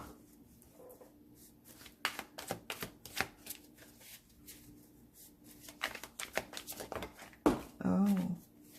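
Tarot cards being shuffled by hand in a reading, a run of crisp riffling and slapping bursts that come and go close to the mic, with some low handling noise between them.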